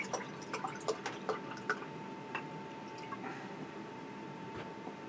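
Surly Brewing Nein Ale beer being poured, with a steady fizzing, dripping liquid texture and scattered small splashes and pops, faint and close, with no talking.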